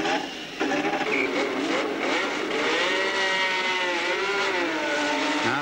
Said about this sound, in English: Cars leaving the pits now for the race.